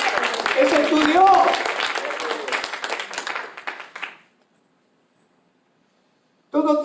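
A church congregation applauds during a worship service, a dense wash of clapping under a preacher's voice that fades out after about four seconds into silence, with a brief burst of sound at the very end.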